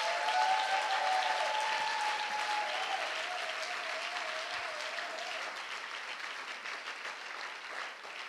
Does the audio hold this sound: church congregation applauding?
yes